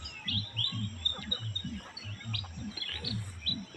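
Birds chirp and tweet in the rural countryside, repeated short calls overlapping in a lively chorus, with a low warbling call pulsing rhythmically beneath higher twittering and faint insect buzz.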